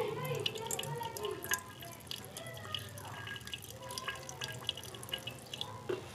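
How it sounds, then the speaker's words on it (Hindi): Excess water poured off gold dust during gold recovery from wristwatch parts, soft trickling and dripping running throughout at low level, with faint background voices. "पहले हम ये एक्स्ट्रा पानी हटा देते हैं इसमें से ताकि फ़िल्टर होने में थोड़ा जल्दी हो जाए"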